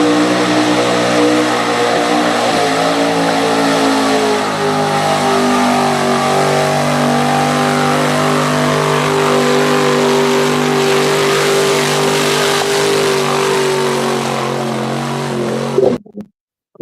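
A Jeep mud truck with a big motor roars at sustained high revs, loud and close with a steady droning pitch that slowly falls, then cuts off abruptly at the end.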